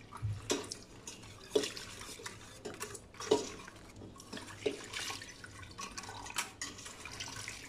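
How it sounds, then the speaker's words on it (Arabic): Water is poured little by little into starch in a kitchen bowl while making Lebanese muhallabia, giving soft close drips and splashes with scattered clinks of a utensil against the dish, and no talking. "انا هلا حضيف المي شوي شوي وبلش ذوب فيهم."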